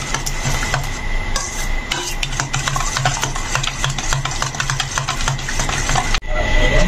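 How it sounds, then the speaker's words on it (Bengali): Yogurt mixed with sugar and black salt in a bowl, a spoon scraping and clinking in quick repeated strokes, close and fairly loud, with a brief pause near the end before the stirring resumes. "হাফ টিস্পুন মতন বিট লবণ দিয়ে এটাকে আমরা ভালো করে মিশিয়ে নেব যতক্ষণ না চিনিটা মেল্ট হয়ে যাচ্ছে"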